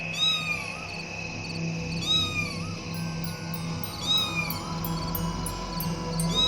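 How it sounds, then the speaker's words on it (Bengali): A black cat meows about three times, drawn-out and wavering, spaced a couple of seconds apart over a steady low background hum. "ওরে বাবারে, বিড়াল! হ্যাঁ, আবার বিড়াল।"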